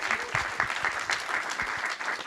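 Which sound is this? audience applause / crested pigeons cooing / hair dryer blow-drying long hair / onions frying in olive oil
audience applause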